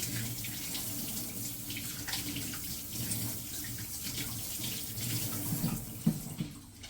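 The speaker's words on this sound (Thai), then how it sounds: "เพื่อน ๆล้างมือก่อน" Hands are washed under a running tap, with a steady flow of water splashing into a sink close by and a brief louder splash near the end.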